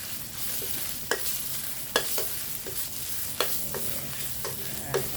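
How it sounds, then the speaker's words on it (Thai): Thai curry paste is stir-fried in a pan for a choo chee curry of soft pork bones with Thai herbs, giving a steady close sizzle broken by regular scrapes and knocks of a spatula. "คนให้พริกแกง แตกนิดนึง"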